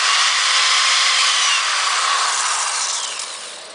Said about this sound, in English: Let's see how this drill doctor does as far as drilling through that axle housing